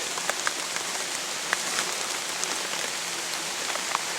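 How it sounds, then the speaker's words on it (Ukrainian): Steady rain falling and pattering on a surface, with scattered louder drops landing throughout. "доща я сьогодні точно не очікував"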